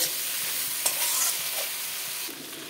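Spiced masala with potato and cauliflower fries in a pan, a dense close sizzle with soft intermittent stirring scrapes, alone without voices.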